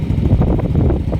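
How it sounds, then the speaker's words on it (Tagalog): Strong wind buffets the microphone outdoors at a barangay near the New Manila International Airport construction site, a constant low, rumbling roar with uneven gusts and no other clear sounds. "Ngayon mahirapan po tayo makapagpalipad ng drone dahil nga sobrang lakas ng hangin."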